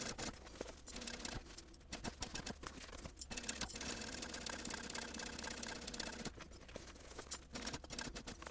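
A sewing machine stitches through vinyl on a small accessories travel bag, giving a continuous close mechanical whirr with a rapid needle patter and brief pauses.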